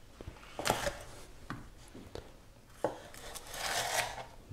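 A knife chops a seeded chili pepper finely on a board, giving a few irregular, fairly close taps and scrapes with quiet gaps between them and no talking.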